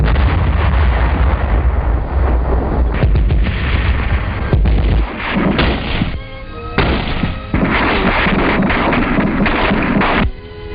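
Artillery barrage on Okinawa in 1945, heavy booming gunfire rolling almost continuously, loud and dense, with deep blasts and a crackling wartime newsreel texture and no talk.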